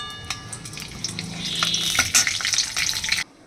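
Cumin seeds, a bay leaf and a dried chilli hit hot oil for tempering, giving a bright, steady sizzle that swells and crackles for about three seconds, then cuts off abruptly.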